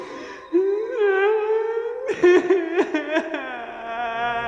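A girl's wailing cry in a Hindi horror story, a long sustained moaning tone followed by broken, sobbing bursts, close and alone with no other sounds.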